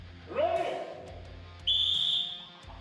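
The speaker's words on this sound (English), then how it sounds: "Whistle." A referee's whistle sounds during a strongman 100 kg dumbbell lift: one sharp, sustained high blast near the middle of the clip, heard close. A voice sounds briefly earlier.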